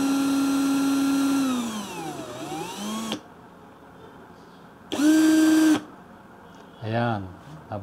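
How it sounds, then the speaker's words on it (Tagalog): A cordless drill bores a hole in a metal wall angle, its motor whining loudly, dipping under load, then stopping, followed by two shorter revving bursts. "Ang pinutol nating wall angle, bubutasan natin sa pamamagitan ng cordless"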